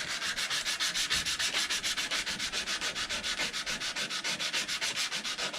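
Rust is sanded off an ice saw blade in quick, regular rubbing strokes, about five or six per second, a close, raspy, evenly repeating scrape with no voices.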